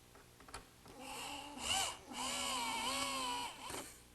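Power drill driving screws through oak boards at the corners of a woodworking assembly, a whining motor burst rising and falling over about three seconds with brief pauses, close and moderately loud, no talking.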